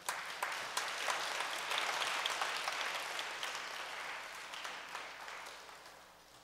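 Audience applause at a ceremony honouring members taking on new roles: a thick, continuous patter of many hands, fairly soft and distant, holding steady before tapering off at the end.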